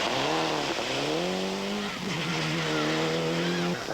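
A Toyota Group A rally car driven by Freddy Loix on a stage of the 1996 Boucles de Spa rally in Belgium, its engine revving hard and continuously with gear changes rising and dropping, loud and close.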